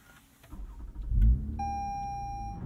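A 2022 Toyota Camry TRD starts up: a brief starter crank swells into a low engine catch, then settles into a steady idle while an electronic chime tone rings over it.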